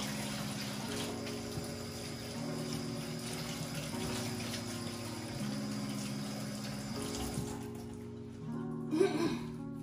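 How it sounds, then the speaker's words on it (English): Tap water running steadily into a kitchen sink while hands are washed during cooking, a constant rushing flow with a faint mechanical hum and a brief clatter near the end. "And wash your hands."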